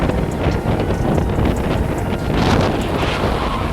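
A boat runs at speed with strong wind, a dense continuous roar of wind buffeting and rushing water, loud and steady throughout with no talk.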